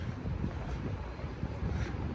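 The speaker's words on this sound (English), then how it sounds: "Ooh, it's windy over here." Wind gusting outdoors across a microphone, a low rumbling buffet that stays fairly soft and continuous for a couple of seconds.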